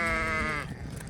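A sheep gives one loud, close bleat with a wavering harmonic tone that lasts about half a second, then gives way to quieter farmyard rustling.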